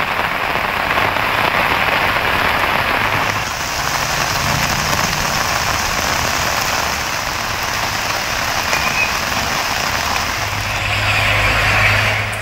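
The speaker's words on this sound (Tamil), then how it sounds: "கன்னியாகுமரி மாவட்டம் குளச்சல் சுற்றுவட்டார பகுதிகளில் கொட்டி தீர்க்கும் கனமழை." Heavy rain pours down around Colachel in Kanyakumari district as a dense, steady hiss that stays loud throughout, with a low rumble like an idling engine underneath.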